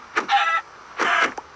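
A Minecraft chicken gives two short, clucking squawks separated by a brief pause, close and fairly loud, with a small click after.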